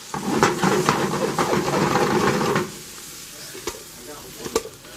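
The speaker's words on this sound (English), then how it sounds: "Once you put your green beans in, boom. Mix those bastards around." Green beans stirred in a hot pan, a loud busy sizzle with scraping and clattering for a couple of seconds that then drops to a softer hiss broken by a few light knocks.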